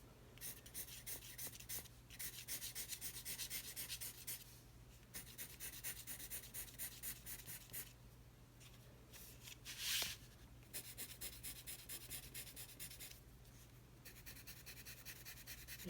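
Pencil strokes scratching across paper as lines are layered to build darker values, a steady close rasp that comes in repeated bursts with short pauses between.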